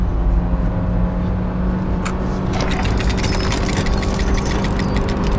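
A 2018 Kia K3 on a road and circuit drive, engine droning steadily under load as it accelerates, a continuous strained hum with a rising whir joining partway through, close and fairly loud.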